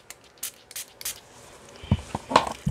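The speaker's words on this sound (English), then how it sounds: "I am going to spray this on this test strip right here." Perfume from a small Nordstrom sample vial is sprayed onto a paper test strip: three short, sharp hissing bursts close by, followed by quieter handling knocks and rustles.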